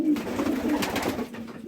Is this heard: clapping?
no